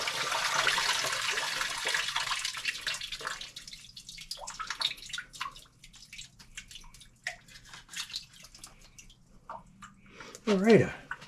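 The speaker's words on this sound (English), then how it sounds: "Let the water drain out." Water drains out of a removed sump pump, a gushing splash at first that settles into intermittent dripping and trickling, with someone talking over it and a sharp clunk near the end.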